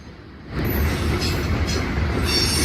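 A train passes close by on the old Big Four line between Cincinnati and Columbus, a loud sustained rumble of rolling wheels with faint squeals, swelling in after half a second and holding steady.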